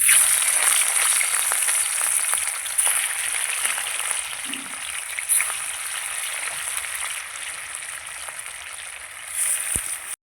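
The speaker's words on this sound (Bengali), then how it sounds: "এবার এই তেলেই মাছগুলো ভেজে নেব।" Catla fish pieces fry in hot oil in a pan, giving a steady, close sizzle with faint crackles and a brief stir or shift of the pan partway through.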